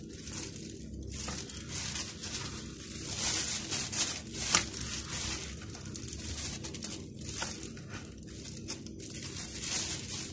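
A plastic freezer bag being handled, close crinkling and rustling in irregular bursts that continue for several seconds, with no talking.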